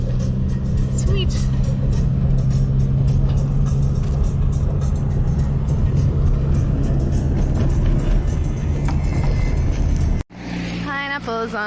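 A car drives over the frozen Lena River road in the Siberian taiga, its engine and tires making a loud, steady drone with a sustained low hum, cutting abruptly near the end.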